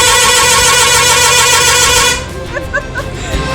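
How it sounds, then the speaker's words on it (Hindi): A large bus honks its horn during a family road trip from Chandigarh to Uttarakhand; a loud, sustained harmonic blare fills the first two seconds, then cuts off, leaving road noise and a few short tones. "बड़ी दूसरी वाली बस ने हॉर्न मारा था"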